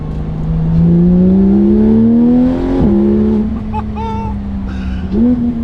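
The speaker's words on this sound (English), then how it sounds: "Feels so good to have exhaust sound back." A Porsche 911 GT3 RS with a titanium exhaust revs hard, its note climbing steadily for several seconds before a sharp shift, then rising again, loud and close.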